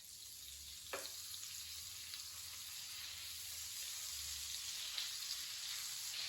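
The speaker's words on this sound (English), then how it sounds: "What I want to do is just add a little bit of butter." Butter sizzles in a hot pan being heated for searing scallops, a soft, steady hiss that stays even throughout, with a couple of faint clicks early on and near the end.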